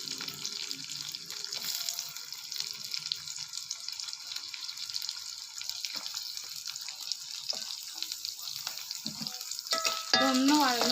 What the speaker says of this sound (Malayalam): ഈ വറുത്തെടുത്ത വെളിച്ചെണ്ണയിലേക്ക് കുറച്ചും കൂടെ വെളിച്ചെണ്ണ ഒഴിച്ചിട്ട് 2 ഉള്ളി അരിഞ്ഞതാണ്